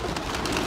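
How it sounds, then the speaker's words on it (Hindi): A pigeon released from a loft gives a brief, soft coo with faint wing movement, heard close against steady background noise. "ये कबूतर निकला बाहर"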